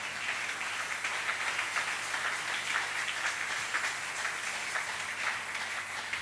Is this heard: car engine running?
no